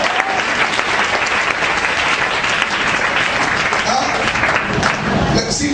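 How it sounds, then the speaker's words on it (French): A church congregation claps and cheers for Jesus in loud, sustained applause that fills the whole stretch, dense and close, with crowd voices mixed into the clapping. "Est-ce que tu peux acclamer Jésus pour ça?"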